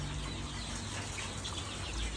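Lovebirds chatter in a pet shop, a dense, continuous wash of small chirps and twitters from many birds close by, with no pauses.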